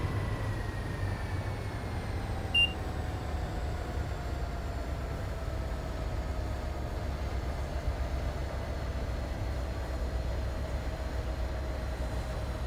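An MBTA commuter train on the Stoughton line to Boston in Train Sim World 2, running with a steady low rumble and a faint whine that slides slowly downward, continuous and fairly quiet throughout without any talk.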